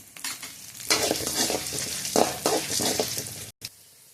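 Fenugreek, cumin and dried red chillies frying in hot oil crackle and sizzle loudly while a utensil stirs them through the pan, the noise swelling in bursts before a brief cut near the end.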